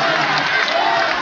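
A crowd at an outdoor political rally for a candidate applauds and cheers, a dense, steady wash of clapping and voices that is loud and continuous throughout.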